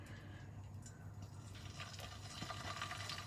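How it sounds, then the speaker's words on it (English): Rice noodle cake batter sizzles softly in hot oil, a quiet, continuous hiss and crackle with a faint low hum underneath. "I hope you can see that and hear that sizzle."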